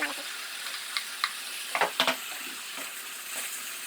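Fried potatoes and eggplant tumble into a pan of oily aloo baingan curry and get stirred, with soft sizzling under a few sharp scrapes and clatters near the middle.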